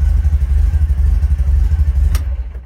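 A 1965 VW T1 Sundial camper engine idles just after a cold start, with a steady, even, low pulsing chug close by, cut off abruptly near the end.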